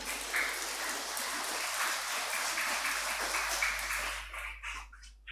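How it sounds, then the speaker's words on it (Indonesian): A church congregation applauds during a homily, a sustained wash of many hands clapping that holds steady, then thins out and fades to scattered claps near the end. "Tepuk tangan untuk mereka semua ya."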